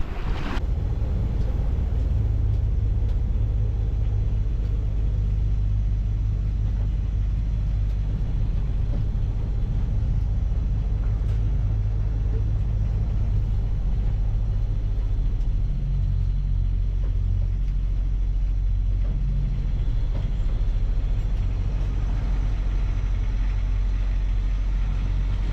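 A sailboat's engine runs to charge the batteries, giving a steady, loud low rumble that continues unbroken throughout with no voices.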